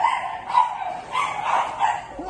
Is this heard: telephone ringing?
no